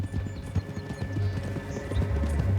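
Horse hooves clip-clopping at a walk in Red Dead Redemption 2, a steady uneven rhythm of soft thuds over a low game ambience, with no speech.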